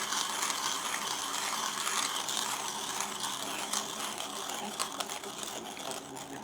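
A ZP6 hand coffee grinder being adjusted at its dial gives a steady run of close, crisp ratcheting clicks throughout, with no talk.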